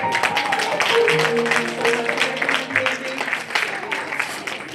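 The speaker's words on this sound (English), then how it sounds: "Give her a round of applause." Guests at a 70th birthday party give a round of applause, a steady patter of clapping heard together with a few sustained tones and some voices in the room.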